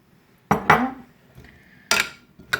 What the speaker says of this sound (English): Add the yoghurt. Yeah. Give it all a really good